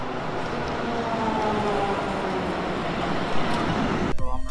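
Interior of a moving tram in Turin on the way to Piazza Castello: a steady rumble and rolling noise throughout, with a brief louder clatter near the end.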